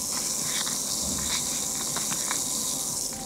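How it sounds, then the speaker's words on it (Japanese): A mixture of baking soda, water and a separated white solid fizzes steadily in a small bowl, a close, continuous hiss of tiny bubbles popping with faint crackles throughout. "これは重曹が化学反応を起こして二酸化炭素を発している音です。"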